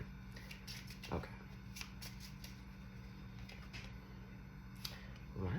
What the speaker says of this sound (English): I don't use this deck a lot, and I was really shuffling